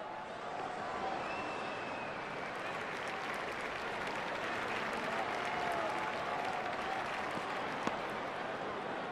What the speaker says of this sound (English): The crowd applaud.